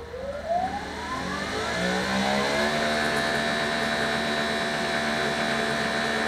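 A GreenWorks Pro electric pressure washer spins up and runs steadily with a 40-degree nozzle, its motor whine rising at the start and then holding at a loud, constant hum.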